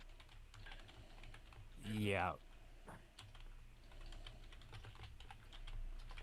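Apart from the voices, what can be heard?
furious typing on a computer keyboard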